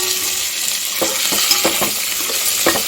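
Spices and vegetables fry in a pan for a Telugu drumstick dal rasam, a steady loud sizzle with a few short stirring scrapes.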